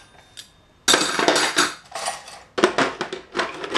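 Metal cutlery and dishes clink and clatter as they are laid out in a kitchen, loud and close, in bursts of rattling with brief pauses between handfuls.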